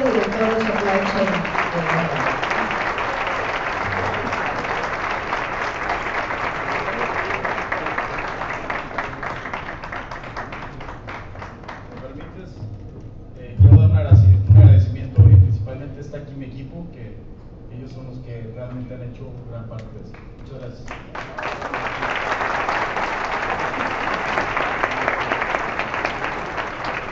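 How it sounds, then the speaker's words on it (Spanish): Loud audience applause fills a logistics award ceremony, a long sustained wash of many hands clapping that fades briefly as a voice speaks over amplified sound, then swells again to full strength near the end. "Un aplauso, por favor, a Danone y a Gustavo Redondo"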